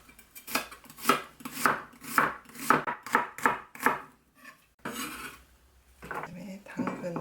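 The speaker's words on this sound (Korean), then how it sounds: "또 야채 썰어주세요" A knife chops vegetables such as eggplant, onion and carrot on a cutting board, giving a quick run of sharp, evenly spaced thuds up close, then a pause before scraping and a few more cuts, with faint speech.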